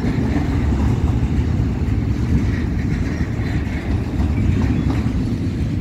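A Florida East Coast Railway intermodal freight train rolls past close by, a loud, continuous low rumble of wheels and cars with a steady rhythm and no speech over it.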